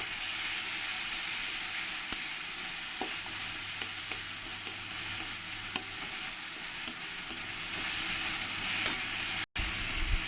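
Ginger, garlic and green chili paste with tomato fries and is stirred in a pan, giving a continuous close sizzle with faint scraping and clinks throughout.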